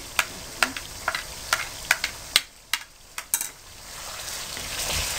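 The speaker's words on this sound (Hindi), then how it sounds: "अच्छी तरह से मिक्स करके दोबारा तकरीबन 1 से 2 मिनट के लिए इसको फ्राई करें।" Chicken frying with ginger and green chilies in a pan, a low sizzle under a quick run of sharp spoon scrapes and clinks, then the sizzle swelling alone.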